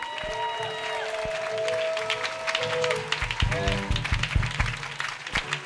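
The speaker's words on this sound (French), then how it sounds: "Clap offering." A church congregation claps together as a clap offering during a French-language worship service, steady rhythmic hand claps over sustained keyboard chords and singing voices.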